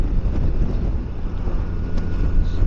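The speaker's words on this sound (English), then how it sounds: "It's kind of windy right now." Steady wind buffets the microphone on a back road in Cave Springs, Georgia, in a continuous low roar with gusty swells, loud and close, no one speaking.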